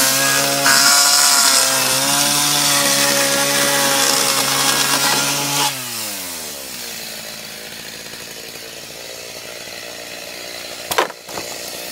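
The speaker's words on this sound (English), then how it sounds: "I got a new chain for the chainsaw, and so I've been tearing into this thing" A chainsaw cuts into a fiberglass encasement, running at a loud steady whine for several seconds before winding down to a lower idle, with a brief rev near the end.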